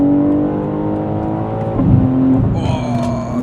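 A 700-horsepower tuned BMW M3 Touring G81 Competition xDrive engine drones steadily at high revs, swelling around a gear shift before higher whining tones enter, loud and close with no talk.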